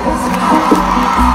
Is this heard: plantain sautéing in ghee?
no